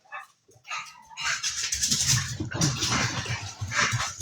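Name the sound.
dog barking and whimpering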